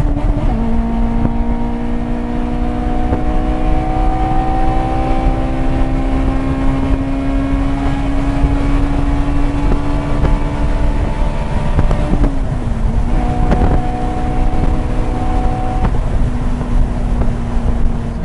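A Honda S2000 engine drones and revs steadily while driving with the top down, its pitch rising and falling across the run under heavy wind rush, with no talking.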